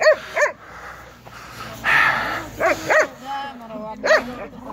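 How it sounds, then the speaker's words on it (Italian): Several dogs at a large dog shelter bark and yip in short bursts while playing roughly together, close by, with whimpers between barks and a person talking in the background. "Lea e India contro gli altri cani."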